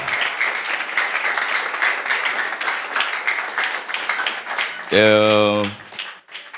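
A church congregation applauds steadily, a broad wash of many hands clapping that stays loud throughout, then gives way near the end to a short, sustained tone before fading.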